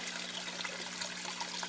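Overflow water from a backyard aquaponics pond system with buried trout tanks runs through PVC pipe, trickling and splashing steadily up close with a constant low hum beneath.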